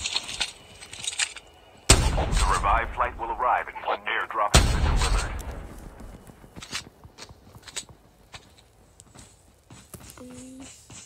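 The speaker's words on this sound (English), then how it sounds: "Just firing some shots to let my teammates know that we're sniping." Sniper rifle shots in the Call of Duty Mobile video game: two loud, sharp blasts a few seconds apart, each trailing off in a long rumbling decay, with quieter game clatter and a brief tone after them.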